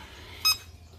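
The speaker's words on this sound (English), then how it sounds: "Turn signal, which makes an awesome sound, right?" A Chinese electric trike's turn signal gives a single short, clear electronic beep over a faint, quiet background.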